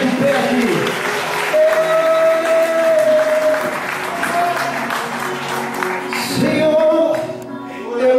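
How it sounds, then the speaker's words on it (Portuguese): Church congregation applauding while standing, clapping under sustained music with held tones and voices over it, the crowd noise swelling and easing across the stretch. "Vamos aplaudir o nome do Senhor e ficar de pé aqui"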